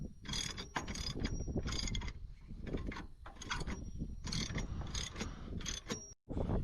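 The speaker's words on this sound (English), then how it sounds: "Got the Premier mower fixed, so it'll raise up" A hydraulic lift raising a repaired Premier mower gives repeated loud mechanical clanks and ratcheting bursts with brief pauses, running continuously up close.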